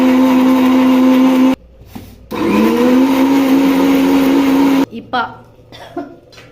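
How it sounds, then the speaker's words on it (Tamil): A mixer grinder blends green chillies and tomatoes into a fine paste for a wedding-style potato and pea kootu, its loud whining motor running in two long bursts with an abrupt stop between them, followed by a few brief clunks. "பச்சை மிளகாயும் தக்காளியும் சேர்த்து நல்லா அரைச்சி அப்படியே ஃபைன் பேஸ்ட் 2 எடுத்துருக்கீங்களா?"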